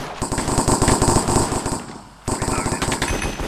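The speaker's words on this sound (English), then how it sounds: "Oh shit, everyone's just shooting." Rapid automatic gunfire in the Minecraft Cops & Crims game mode, dense bursts of shots rattling almost continuously, a brief pause, then the firing resumes loudly.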